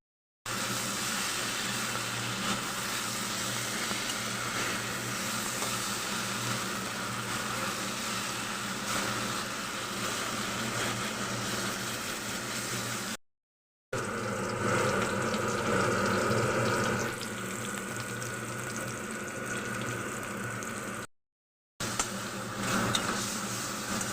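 Crab curry with fish head, tomato and garam masala simmering in a covered pot, giving a steady, continuous low hiss and bubble with brief dropouts and no talk.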